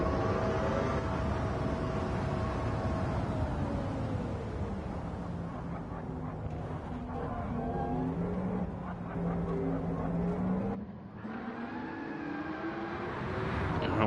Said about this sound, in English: And we got wheel spin.